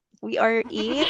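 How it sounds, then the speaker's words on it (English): A recorded goat bleat plays back as one short, wavering, nasal cry lasting under half a second, immediately followed by a person speaking close by. "So this is what goat sounds like."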